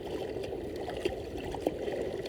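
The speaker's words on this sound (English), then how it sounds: "Oh man, these waves are not fun." Water churns and rushes steadily in choppy surf over a reef during a dive, with a couple of brief knocks, fairly faint and continuous.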